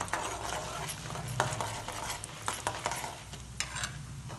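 Urad dal being fried and stirred in hot sesame oil, with soft sizzling under scraping spoon strokes and occasional sharp clinks against the pan, fairly quiet and close.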